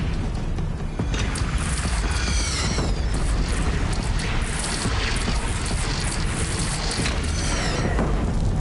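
Cannon fire in the video game Horizon Zero Dawn, loud, booming blasts within a dense, continuous wash of game noise and effects, with no clear gaps between the shots.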